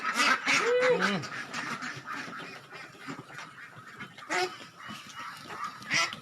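Farm ducks being fed maggot-based feed crowd together, quacking loudly and continuously in a dense, overlapping chorus, with rustling and scuffling underneath.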